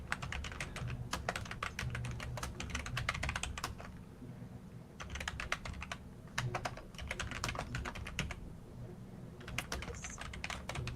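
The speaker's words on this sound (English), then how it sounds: "Good clickety clacking." Computer keyboard typing with rapid clicking keys in bursts, pausing briefly around the middle and resuming, close and steady.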